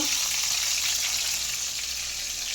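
Tomatoes cooking with salt in a hot pan give off a continuous, even sizzle, bright and hissing, close by and steady with no talk over it.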